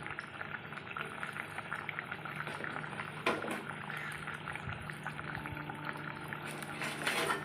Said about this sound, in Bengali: ভালো করে ফুটে গেলে আমার মাছের তেল ঝাল কমপ্লিট হয়ে যাবে